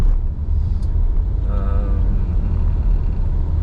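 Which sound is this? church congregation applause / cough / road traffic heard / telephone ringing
road traffic heard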